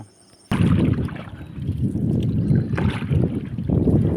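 A boat churns through sea water with a loud, rumbling engine and rushing wind buffeting the microphone, steady and close throughout.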